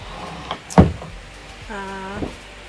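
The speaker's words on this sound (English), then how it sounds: "Sliding door." A sliding door opens on an Outremer 52 sailing catamaran, a sharp knock followed by a short rolling slide and a tonal squeak, close by in a quiet cabin.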